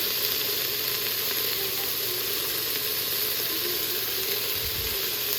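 Onion and chopped tomato sauteing in a hot pan, a continuous bright sizzle with a brief low thump near the end and no talking.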